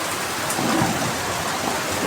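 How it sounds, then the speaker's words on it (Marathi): Heavy monsoon rain pours steadily onto a flooded farmyard among rice fields, a broad continuous hiss with a low rumble of thunder swelling briefly near the middle, no voices. "पावसात हे बघा काय गडगडाचा आवाज येतोय ना"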